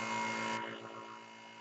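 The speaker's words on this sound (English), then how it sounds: "Turn on my vacuum." A vacuum pump runs with a steady mechanical hum and bright whine throughout, drawing through a glass funnel, easing slightly in tone partway through, with no voices.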